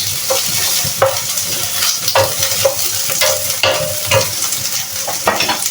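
Meat fries in a pan with rosemary for a beef fideuà, a loud steady sizzle broken by repeated scraping stirs at close range, no voices.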